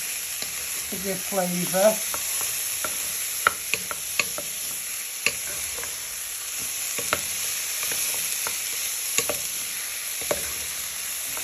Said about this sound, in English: Now you want to add in your prawns. Just give them a stir for a few minutes